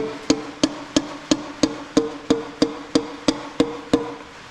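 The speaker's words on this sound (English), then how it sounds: "Just gonna tap this down with the back of the hammer" Regular, evenly spaced metallic taps from the back of a hammer on a 1930 Ford Model A engine cylinder, about a dozen in a row, close and crisp with brief ringing after each strike.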